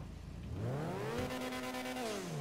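A car engine in Grand Theft Auto V revs up, its pitch climbing and holding in a throaty roar before easing back, moderately loud with no talk over it.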